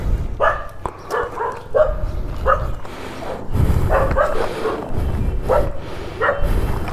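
Several dogs bark and yelp in bursts while fighting at a mountain stop on a Himalayan bike trip, loud and nearby, with snarling scuffle noise between the barks.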